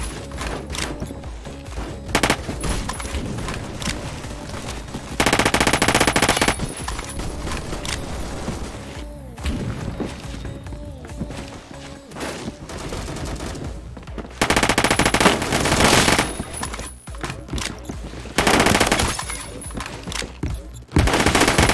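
Automatic gunfire from the Roblox shooter game Phantom Forces rattles in dense, loud bursts, with sustained volleys broken by short pauses and overlapping shots throughout.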